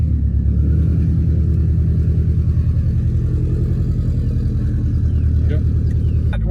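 A Subaru WRX STI with a stage 2 e-tune turbo engine idles and revs in a steady, loud, deep rumble, with a voice talking over it.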